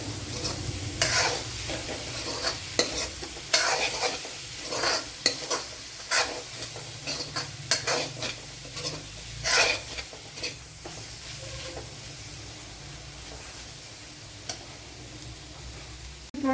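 Onions and tomato fry and crackle in a pan for a chicken dish while a spoon stirs and scrapes in irregular bursts, close up and alone, with a steady sizzle underneath.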